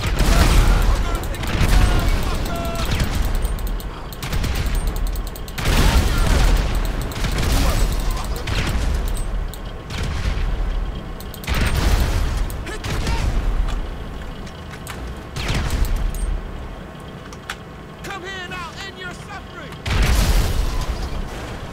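Bombing in GTA Online, with repeated loud explosions and booming bursts in an irregular series, close and heavy, while someone talks between them.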